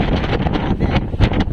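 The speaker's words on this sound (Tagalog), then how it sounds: "Ang hangin, grabe ka lakas." Strong wind roars over open sea near Surigao in heavy swells, buffeting the microphone in loud gusty bursts that rise and fall, with no talk.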